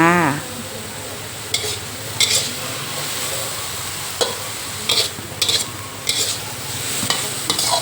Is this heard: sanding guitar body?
no